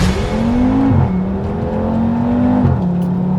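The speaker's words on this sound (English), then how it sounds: "A few years ago I reviewed an Audi RS3 which sounded like this." An Audi RS3 five-cylinder engine revs loudly and close, its pitch climbing, dipping briefly, then rising again in a sustained, throaty drone.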